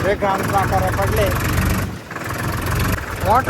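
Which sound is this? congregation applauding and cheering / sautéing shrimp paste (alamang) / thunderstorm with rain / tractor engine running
tractor engine running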